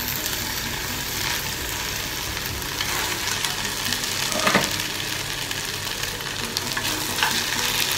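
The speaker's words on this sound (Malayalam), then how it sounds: "ഇനി ഇതിലേക്ക് കുറച്ച് കറിവേപ്പില ഇട്ട് കൊടുക്കാം" Curry leaves dropped into a pan of vegetable upperi stir-fry, a steady loud sizzle of frying with occasional stirring scrapes, heard alone without talk.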